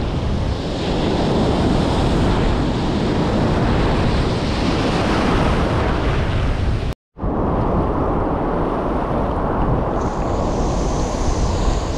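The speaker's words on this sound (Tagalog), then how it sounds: "Oh, laki ng alon na to." Big storm waves and strong wind pound the shore in a loud continuous roar with heavy wind buffeting the microphone, broken by a brief dropout before the surf resumes.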